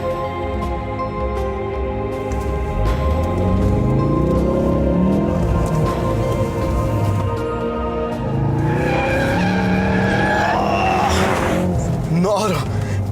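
A 2016 Ford Focus RS with four-wheel drive, sliding in Drift Mode: a revving engine rises and falls while tires squeal in long, loud stretches, and a voice talks over it.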